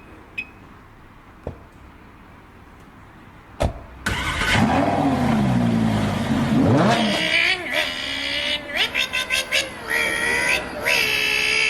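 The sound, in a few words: car driving and accelerating, from a played video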